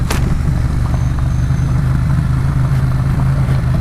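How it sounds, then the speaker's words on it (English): A motorcycle engine braking down a rough rocky road full of holes, a steady low mechanical drone running without pause at close range, no talking. "We are now engine braking, people."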